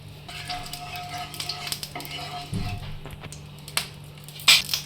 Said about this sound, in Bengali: 1/2 চামচের মতো আমি সরিষার তেল দিচ্ছি।